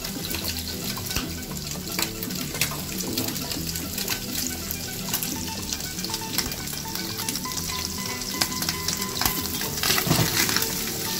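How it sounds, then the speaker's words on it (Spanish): Lamb sweetbreads fry with garlic in a pan, a dense, continuous close sizzle with crackling pops and occasional stirring, and no one speaks. "cuando tengamos la molleja ya dorada, es cuando echamos el ajo"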